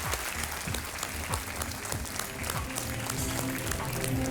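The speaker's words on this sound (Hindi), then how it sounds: "खूब जोर से तालियां बजें इनके लिए" Sustained applause from a studio audience on a televised quiz show, steady dense clapping filling the space without pause, no voices on top.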